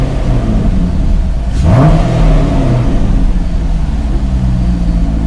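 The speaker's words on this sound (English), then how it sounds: "let me rev it up." A Chevrolet C6 Corvette engine idles loudly up close, then revs once in a quick rising surge before dropping back to a steady rumble.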